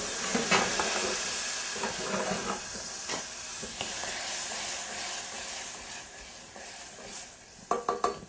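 Worcestershire sauce hitting a pan of toasted raisins, with a steady broadband sizzle and hiss throughout, stirring scrapes and a few brighter crackles near the end.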